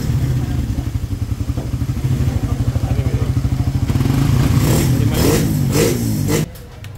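A motorcycle engine, started after a few attempts following fuel pumping, runs close and loud with a steady rapid chugging, then rises in several quick revving bursts before dropping back toward idle near the end.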